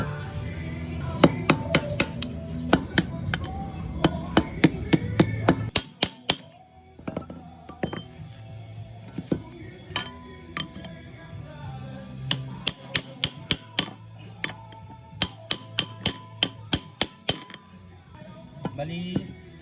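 Repeated light, sharp metallic taps of a hammer working the ball race on a Honda Click 125 scooter, coming in quick bursts separated by short pauses, close and clear with faint movement between strikes.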